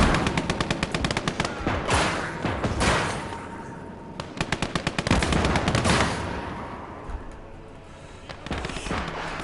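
Gunfire in the Call to Arms: Gates of Hell Eastern Front war game, with rapid machine-gun bursts and heavy single shots echoing in repeated volleys, loud and close, with no talk over them.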